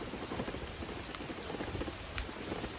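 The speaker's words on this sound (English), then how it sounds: "Well, y'all, it is officially raining." Steady rain falling outdoors by a river on a fishing trip, a dense, even patter of drops on surfaces and foliage that stays constant throughout with no voices.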